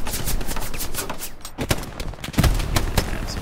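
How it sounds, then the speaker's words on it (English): Machine gun fire in the World War II shooter Hell Let Loose, a string of sharp, fairly close shots crackling over a busy battlefield din, heavier bursts near the end. "I'm being watched by an MG."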